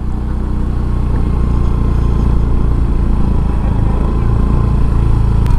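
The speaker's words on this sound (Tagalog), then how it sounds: "testingin natin kung hanggang saan kaya ng motor natin akitin" A motorcycle engine labours loud and close as it climbs a steep hill, holding a constant heavy drone with no pauses.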